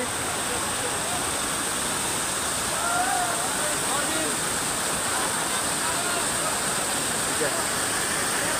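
A continuous dense roar of rushing water from a waterfall at Jaflong, Sylhet, fills the whole clip, steady and loud, with faint voices barely audible beneath.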